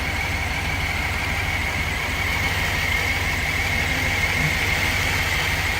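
A car engine idles roughly after sitting unused, a close, continuous rumble with a slightly uneven, rough texture and no voices.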